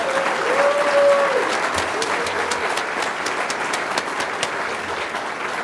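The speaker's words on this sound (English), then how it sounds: "Why don't we give Tanya and Jennifer Harmon a big round of applause for all the work they've been doing?" A crowd at a public talk on tech policy and the digital divide breaks into applause, sustained clapping from many hands with a faint voice briefly audible near the start before the clapping carries on steadily.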